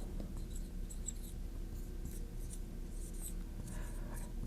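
Marker or chalk scraping across a classroom board in steady strokes, fairly close and continuous, with low room rumble underneath and no talking.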